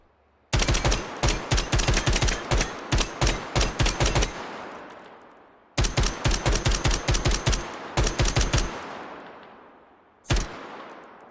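Rifle gunfire in the video game ModulAR2: loud, evenly spaced rapid shots in a long burst that fades into an echoing tail, then two shorter bursts and a final single shot.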